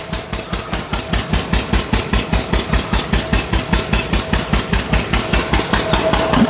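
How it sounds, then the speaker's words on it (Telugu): A water pump engine pumping water onto a garden plot, thumping in a fast, even rhythm of regular beats, loud and close throughout with no voices. "అలాగే కూడా ఒక ఇంజిన్ ఉంది చూడండి,"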